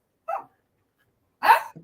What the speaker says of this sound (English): My dog hears your dog barking and he's barking back